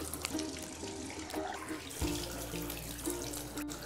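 Tap water runs steadily into a sink while a face is washed, a close, continuous rushing splash that shifts in tone partway through as hands move under the stream, with no talking.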